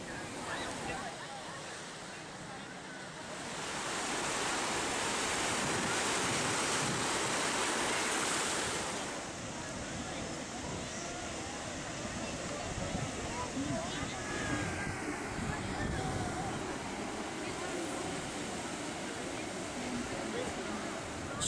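Lake waves washing onto a Chicago beach, a broad rushing surf noise that swells for several seconds and then settles into a softer steady wash with wind buffeting the microphone, and a voice speaks over it.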